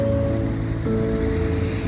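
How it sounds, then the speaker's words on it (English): The River Calder, running low after a drought, flows past an old mill in town with a steady, close, continuous rush of water and no voices. "Here's the River Calder."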